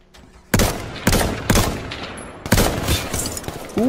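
Gunshots in H1Z1 battle royale, several loud separate cracks spaced about half a second apart with short echoing tails, and a faint voice near the end.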